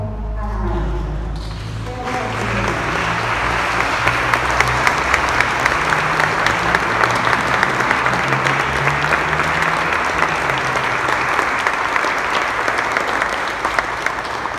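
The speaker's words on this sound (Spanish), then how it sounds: "Recibamos con un fuerte aplauso a la maestra." An audience in a church temple gives loud, sustained applause for the conductor at a sacred music concert, rising after a brief low rumble and continuing evenly.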